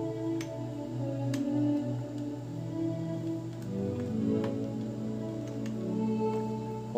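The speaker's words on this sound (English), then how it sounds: "the Steel Knight sounds like that, and it's a beautiful pad" A sustained, warm Steel Knight pad preset from FL Studio's Flex synth plays chords alone, evolving slowly with soft shimmering overtones and faint ticking clicks.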